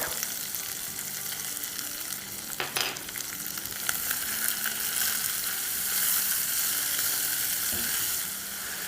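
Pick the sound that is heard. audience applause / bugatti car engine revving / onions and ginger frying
onions and ginger frying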